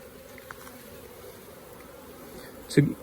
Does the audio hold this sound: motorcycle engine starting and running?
no